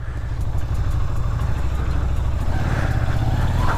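A 1994 Yamaha Virago 250 cruiser motorcycle engine rumbles steadily while being ridden, a close, continuous low throb mixed with wind noise that rises slightly toward the end.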